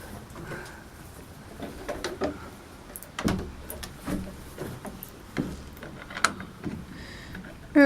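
At a horse shelter, a large door on the tack room is worked shut with a series of scattered knocks, scrapes and thumps, ending in a louder bang. Faint birds are in the background.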